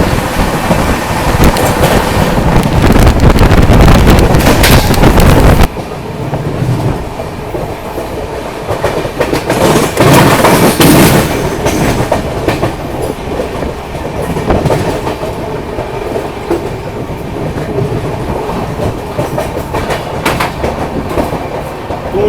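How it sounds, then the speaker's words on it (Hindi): Kaifiyat Express train 12226 running on the Delhi–Kanpur route, steady loud rolling rumble with rhythmic clickety-clack of wheels on rail joints throughout, louder at first, then slightly quieter but continuous. "दिल्ली कानपुर वाले रूट पर अपनी ट्रेन चली रही है"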